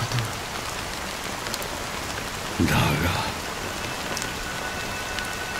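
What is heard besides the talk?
rain falling in the video game Honkai: Star Rail cutscene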